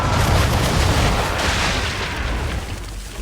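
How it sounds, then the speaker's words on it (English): Ship cannons fire a broadside in Assassin's Creed 3, a loud, continuous wall of booming blasts and rolling rumble that stays heavy throughout and eases only slightly toward the end. "Bring her round broadside, and when all guns are on target, call fire."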